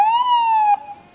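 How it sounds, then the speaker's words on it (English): An Orange County Fire siren at a parade, a single short rising-and-falling wail, loud and near, cutting off abruptly with a faint tail. "Orange County Fire. You can hear the sirens."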